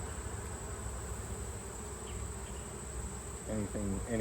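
Honeybees buzz continuously during an October inspection of combined hives, a dense close-up hum with individual bees droning by near the end.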